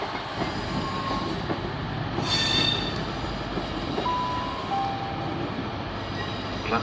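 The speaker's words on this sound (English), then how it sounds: "The next train to arrive at platform 8 will be the 1826 Great Western Railway service to Weston-super-Mare" Great Western Railway train pulling into a platform at Bristol Temple Meads, a steady low rumble of wheels and carriages with occasional high squeals and a brief hiss, moderately loud and without speech.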